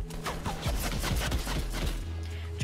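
Gunfire in a video game comes as a rapid run of punchy shots, loud and close. The shots repeat steadily for a few seconds before thinning out near the end.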